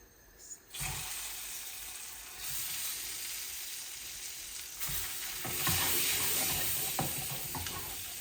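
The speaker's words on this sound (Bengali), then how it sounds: "এই যে অল্প একটু 6টা ডিম ভাজা করতেছি।" Six eggs with a pinch of turmeric fry in a pan for a home-style egg bhuna, giving a close, broad, steady sizzle that swells louder partway through, with a brief tap-like rush near the start.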